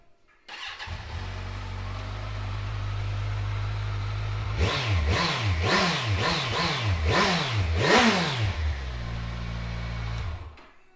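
A 2016 Kawasaki Z1000SX motorcycle engine with standard exhaust cranks and starts, settles into a low idle, is revved sharply several times in quick succession, then returns to idle and shuts off.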